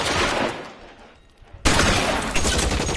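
Automatic machine gun fire from the video game L.A. Noire comes as a loud, dense stream of shots that dips briefly, then bursts back at full strength and keeps going, with no talking.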